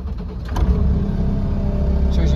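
The diesel engine of a 2020 New Holland C327 tracked compact loader cranks briefly and catches, settling into a loud, steady low idle close by.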